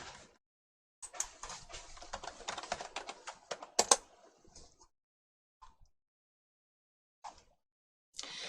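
Keys clatter on a computer keyboard in quick bursts of typing, followed by a few isolated clicks separated by quiet gaps, close and fairly soft.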